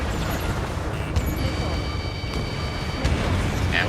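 In Ace Combat 7, a missile strikes the player's fighter jet. Several heavy booms land over a constant roar of engine and battle noise, with a high tone sustained in the middle.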